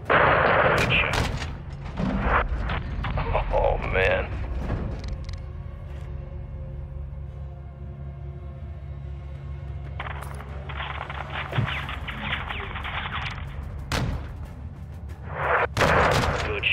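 Gunfire and artillery in the Call of Duty combat game, mission Operation Close Air: loud bursts of shots and heavy booms at the start, a lower rumbling lull in the middle, then renewed blasts and sharp reports toward the end.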